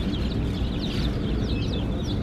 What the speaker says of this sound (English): Look at baby chickens.